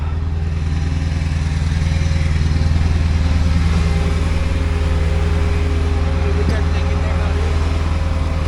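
Honda car with a stuck parking brake idling and backing up, a steady low engine drone with constant rumble throughout, close by, with speech heard faintly over it.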